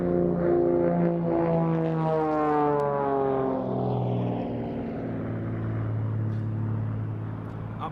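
Propeller aircraft flying formation aerobatics at a VE Day air show drone loudly overhead, their engine pitch sliding and falling as they roll and pass, with steady rumbling tones that fade slightly toward the end.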